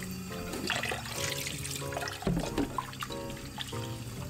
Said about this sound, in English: I'm just going to give the shrimp another rinse just to make sure all of the veins are out.